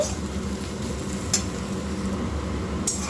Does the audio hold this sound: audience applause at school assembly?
no